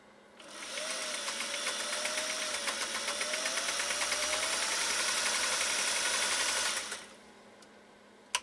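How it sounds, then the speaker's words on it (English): A Singer 500A sewing machine motor runs at about half power, a steady close whir with a fine rapid rhythmic ticking that starts abruptly, holds for about six seconds, then stops, followed by a single sharp click. "I want you to hear this motor now"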